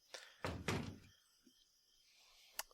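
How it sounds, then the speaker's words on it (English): Door closing in the visual novel Everlasting Summer: a couple of dull thunks and a firmer slam close together, followed by quiet and a small sharp click. "After the door closed behind Alyssa"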